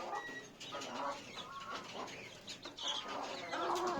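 A hen and rooster cluck and call in a farmyard, with several short, fairly faint squawks and chatter scattered across the few seconds and no talking over them.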